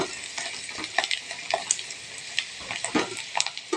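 Onions fry in a pan for crab gravy, a bright sizzle with repeated scraping and clacking as they are stirred in quick, irregular strokes, with no talking.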